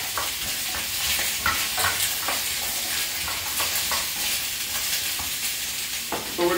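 Vegetables pan-roasting for beef stock crackle and sizzle steadily in a hot pan, with repeated stirring scrapes punctuating the close, continuous frying noise; no one talks over it.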